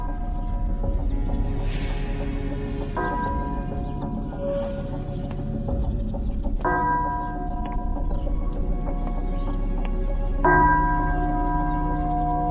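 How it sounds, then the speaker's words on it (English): A temple morning bell rings in slow, spaced strikes, each tone blooming and sustaining as a long resonant hum before the next strike, clear and fairly loud against a faint background. "Where does the bell sound from?"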